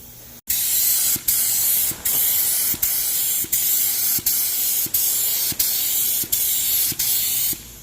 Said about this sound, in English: And let's go spray it